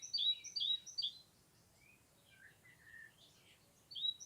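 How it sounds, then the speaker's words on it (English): A blackbird sings in woodland, a few quiet phrases of bright, high chirping notes at the start and end, heard from a short distance in a calm setting. "another blackbird started singing just behind me."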